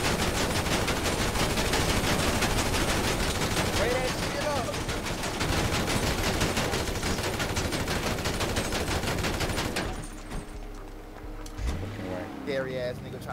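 Rapid automatic gunfire from GTA 5 sprays in a dense, loud, continuous barrage for about ten seconds, then cuts off to quieter background noise with voices talking over the action.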